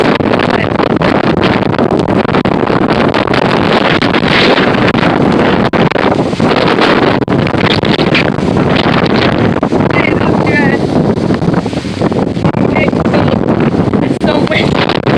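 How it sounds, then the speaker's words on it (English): Strong Hurricane Irma wind gusts roar loudly and continuously, with wind buffeting the microphone, rain whipping past, and excited voices exclaiming at times. "It's so windy."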